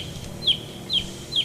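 A chicken gives three short, evenly spaced high clucks, close and clear over a low background hum.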